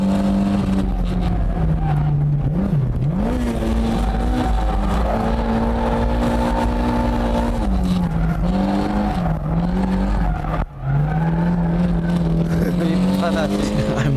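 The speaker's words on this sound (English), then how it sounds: "I'm literally flooring it the entire way" A drift car's engine roars at full throttle, loud and sustained, its pitch dipping and climbing as it's held hard, with faint tire squeal mixed in.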